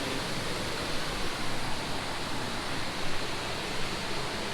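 Steady, loud rushing of creek water spilling over a waterfall, a dense continuous roar close by with no voices.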